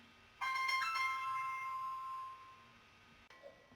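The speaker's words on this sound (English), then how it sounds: "Sorry about that, I had to answer a phone call." A phone rings with a bright repeating electronic tone that sounds steadily for about two seconds, then fades, and a faint clunk follows as it stops, in a quiet room.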